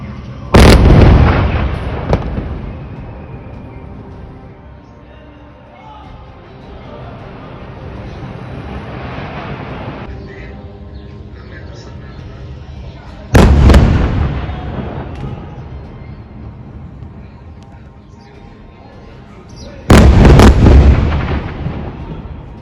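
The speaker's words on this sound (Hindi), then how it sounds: "इजराइल ने फिर से सेंट्रल गाजा पर हवाई हमला कर दिया" Heavy blasts from Israeli airstrikes on central Gaza, around the Al-Bureij camp: three deep booming explosions, each with a long rumbling decay, under a steady low background roar.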